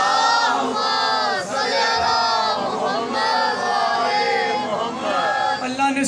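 At a Muharram majlis in Lahore, a large crowd loudly recites salawat (durood) in unison, a dense swelling chorus of voices rising and falling in repeated waves over several seconds.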